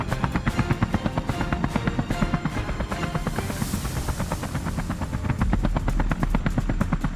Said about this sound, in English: helicopter blades roared